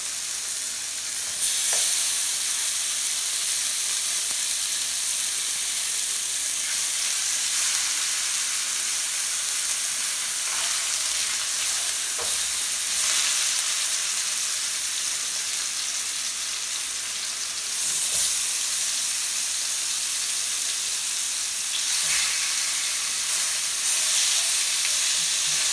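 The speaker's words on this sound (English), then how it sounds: "We're gonna place the pork chops in now." Pork chops pan-frying in a hot pan give a steady, loud, close sizzle that holds evenly throughout, with brief crackling surges and no voices.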